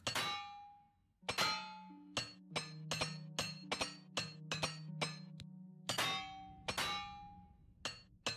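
Metallic clinks and clangs from a repair hammer in the video game Oblivion Remastered, a steady series of sharp ringing strikes with bright tails over a low hum and no talking.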